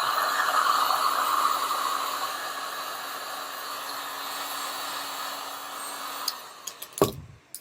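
A heat gun blasts hot air onto a cosplay armor piece, a steady, close, broadband hiss with a faint whine, cutting off near the end and followed by a few light handling knocks.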